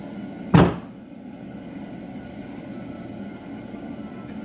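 A car's left rear door, newly hung on a frame-up build, shuts once with a short solid thud near the start, followed by quiet room noise.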